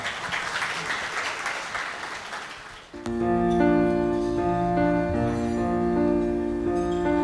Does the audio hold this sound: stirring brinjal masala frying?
no